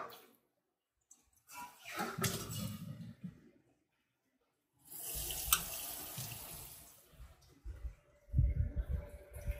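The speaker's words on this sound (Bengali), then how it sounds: "পরিষ্কার নল থেকে জল নিয়ে আর একবার ধুয়ে নেব" A kitchen tap runs in three separate bursts as fish pieces are rinsed clean after soaking in lemon water, with quiet pauses and small handling clicks between the gushes.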